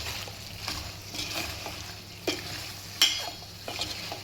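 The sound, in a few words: chicken liver being mixed and fried with chilli powder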